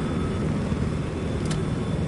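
Steady, loud engine roar from a jet aircraft in the Battlefield 4 video game, a broad continuous rumble filling the whole stretch with a short bright swish near the middle.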